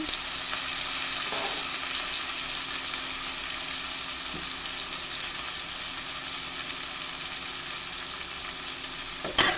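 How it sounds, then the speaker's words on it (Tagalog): Bite-size chicken pieces fry in a pan for a chicken and ampalaya curry, giving a steady, loud sizzle throughout with occasional stirring scrapes and a sharp clatter at the end. "Lagay natin yung ating bite size na chicken."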